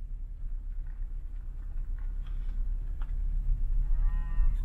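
Cattle on a road in Medicine Bow, Wyoming, with a low moo rising near the end over steady rumbling wind and engine noise.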